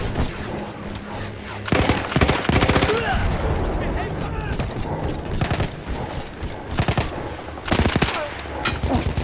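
A mounted machine gun firing in the Battlefield 1 video game, in several loud rapid bursts with quieter gaps of distant battle noise between them.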